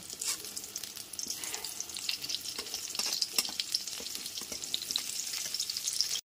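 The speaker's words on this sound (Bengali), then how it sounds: "এরপর বেগুনগুলো ভেজে নেব" Eggplant pieces coated in salt and turmeric frying in oil, a dense, close, continuous crackling sizzle with scattered sharp pops that cuts off abruptly.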